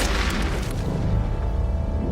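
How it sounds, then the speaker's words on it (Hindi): Explosions from a German pocket battleship's attack on a merchant ship at sea, heard as a dense, continuous wall of loud booming rumble with heavy low-end roar throughout, no talk. "विस्फोट आसमान चीरते हैं जब एक व्यापारी जहाज वार से डूबने लगता है।"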